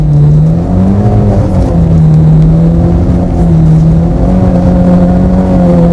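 A tuned Mitsubishi Lancer Evolution X drifting with stability control off produces a loud, sustained engine drone whose pitch rises and falls as the revs swing, close up and with no talk.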